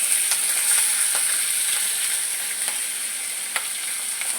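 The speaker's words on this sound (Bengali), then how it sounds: "এরপর আমি এর মধ্যে চিকেন কিমাগুলো দিয়ে দিচ্ছি।" Chicken mince fries in hot oil, a steady bright sizzle and hiss with faint occasional stirring clicks underneath.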